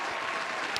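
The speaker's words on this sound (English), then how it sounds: "here's got a round of applause." A round of applause from a live audience at a streamed workers' show, steady dense clapping heard briefly and at moderate volume.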